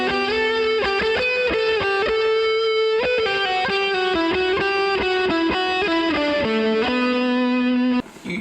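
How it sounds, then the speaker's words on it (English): An electric guitar through a high-gain amp with a delay pedal in the FX loop plays a sustained distorted melodic line, loud and close, each note trailing into echoing repeats before cutting off abruptly near the end. "if I change it to delay, you can hear something like that."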